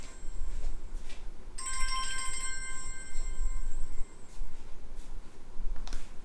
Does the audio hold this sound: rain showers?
no